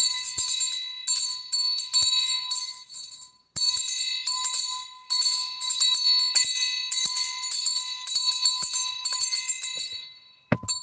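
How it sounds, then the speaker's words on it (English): A bright metallic bell rings repeatedly in fast, steady strikes, loud and close, with a short pause partway through and no talking. "In fact, I need to ring this bell."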